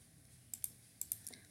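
Several quiet computer mouse clicks come in two close pairs and then a softer trailing click over a faint hum of a quiet room, where a right-click is being made in the Eclipse IDE.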